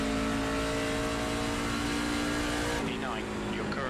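A NASCAR truck in a racing video game roars with a steady, loud engine drone that holds a high pitch, then shifts abruptly near the end as a voice begins talking over it.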